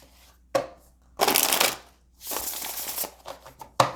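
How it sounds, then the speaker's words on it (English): Tarot cards being shuffled by hand at close range, with several bursts of riffling and sliding card noise separated by short pauses, no talking. "focusing on the shuffling that I'm doing"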